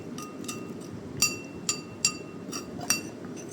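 A spoon mixes boiled corn with ghee in a dish, producing a handful of sharp, bright clinks against the container at irregular intervals over a quiet, soft scraping background.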